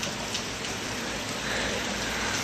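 Steady rain falls and patters on surfaces nearby, a dense, even hiss of drops with no voices.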